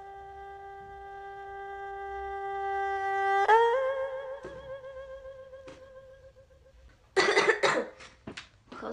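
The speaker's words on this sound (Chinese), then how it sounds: "咳嗽总不好。" A person with a lingering cough gives a harsh, close burst of coughing near the end, following a long held sung or tonal note that fades out.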